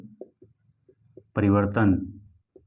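Chalk writes on a classroom board during a biology lesson, making short scratchy taps and strokes before a voice speaks over the end.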